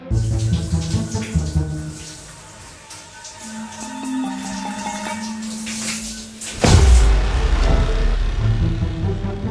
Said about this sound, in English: So now I'm gonna wind down and take a shower.